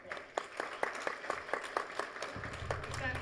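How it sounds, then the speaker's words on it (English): A small crowd at a county candidate forum gives a sparse round of applause, a few distinct, fairly faint claps spaced out before fading into room noise. "Let's give her a round of applause."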